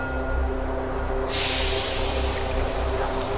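A train pulls into a station in the zombie strategy game They Are Billions, giving a steady rumble with a hiss of air brakes bursting in partway through and continuing to the end.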